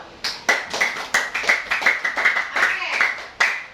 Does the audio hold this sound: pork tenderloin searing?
no